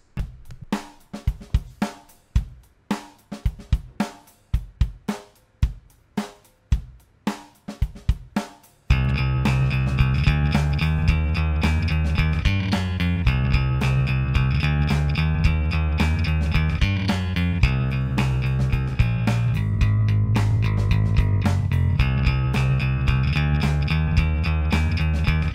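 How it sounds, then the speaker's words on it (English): Music built in GarageBand for Mac from preloaded loops opens with a punchy drum loop playing alone for several seconds, then a distorted bass guitar loop joins in. The pair keep a steady groove, loud and close. "I've just completely made a musical track based off of just some preloaded drum loops and some preloaded bass guitar loops"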